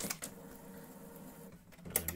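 The carriage of an HP Officejet 7610 printer, which has a logic board fault and a carriage jam, makes a mechanical whirring run with clicks and rattles at the start and end, close and moderately loud.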